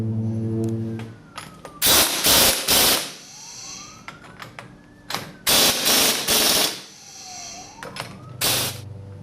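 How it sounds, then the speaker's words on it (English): A coil spring on a Dodge Challenger front suspension with an Eibach kit squeezed by coil spring compressors, loud bursts of rapid rattling from an impact tool, repeated several times with quieter gaps and faint whining between. "we're going to use our coil spring compressors and compress this down enough to get this hat installed"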